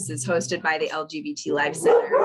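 Dogs bark indoors in the same room, short yips and woofs mixed in with a person talking continuously over them.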